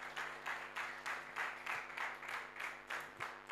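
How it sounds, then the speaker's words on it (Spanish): A church congregation applauding together, a steady wash of many hands clapping in rhythmic swells at moderate distance with no talk over it. "Denle un aplauso bien grande al Señor"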